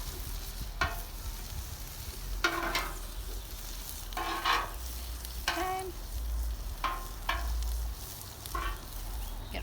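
Shrimp hit a hot pan and fry, sending bursts of loud sizzling and spattering with clattering stirring and tossing in irregular surges over a low background hum.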